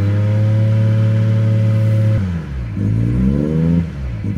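A car engine warming up after several minutes of running, idling in a steady low drone, then catching and surging through uneven revs close to the microphone.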